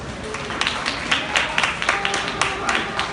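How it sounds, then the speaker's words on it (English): An audience at a cannabis health event applauds, a crowd of hands clapping with sharp individual claps standing out from the steady patter, lasting throughout. "Now that I got some applause,"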